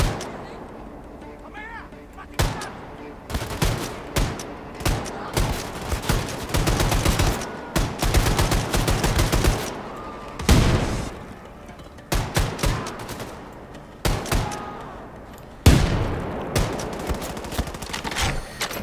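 Gunfire in the shooter Wolfenstein II: The New Colossus, with heavy bursts of automatic and rifle fire that come in dense, repeated volleys with short lulls between them, loud and close throughout, along with occasional talk.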